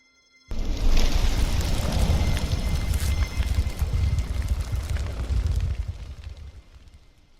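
A 2005 BMW K1200LT motorcycle on the road kicks in abruptly into loud, steady wind and engine roar that holds for several seconds and then eases off slightly toward the end.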